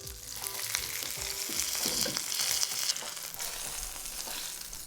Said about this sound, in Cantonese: Using tongs, we'll sear the edges of the steak first,